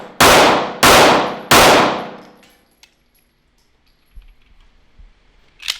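Three loud, evenly spaced shots from a Smith & Wesson Shield Plus micro-compact pistol, each with a ringing decay, followed by near silence and a few faint clicks.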